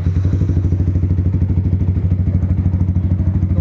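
A motorcycle engine with a silencer fitted, running loud and close at a steady fast idle, its even throbbing pulse continuing unchanged throughout with no voices.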